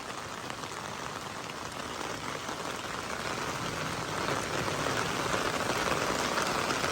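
Heavy storm rain pours down steadily in a dense, loud, continuous hiss of drops hitting surfaces, building slightly toward the end with no voices.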